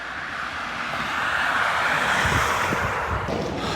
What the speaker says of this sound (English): I can hear planes.